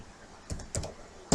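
A few quick keystrokes on a computer keyboard, three or four light clicks spaced out over a second, close and fairly faint against a quiet room.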